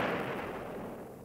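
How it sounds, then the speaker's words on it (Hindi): Cannon fire from the artillery of Jhansi during the British assault on the fort, heard as a sustained, dense rumbling roar that stays loud and fades gently, with no voices over it. "सवेरा होते ही झांसी की तोपें फिर गरजने लगी।"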